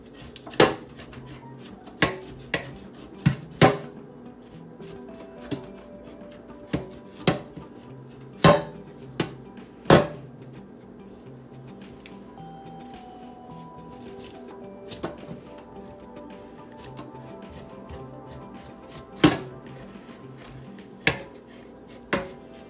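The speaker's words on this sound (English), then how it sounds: "This is how I like peeling my yam, this way." A knife peels a whole uncut yam straight down its length, in an outdoor village kitchen, with sharp scraping clicks and taps repeating irregularly, close and fairly loud, and no talking over them.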